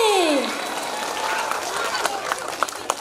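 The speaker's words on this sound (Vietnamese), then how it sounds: "xin cộng đoàn dành một tràng pháo tay thật lớn, thật dài" A voice trails off as scattered hand claps begin, sparse at first and building into loose applause from a parish congregation at an evening concert.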